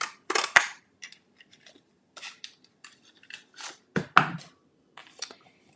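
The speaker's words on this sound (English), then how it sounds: "now we're going to take the other heart punch and cut this out." A heart-shaped paper punch clacks through card stock in a handful of sharp, crisp snaps separated by quieter handling rustles, close and fairly quiet with no talking.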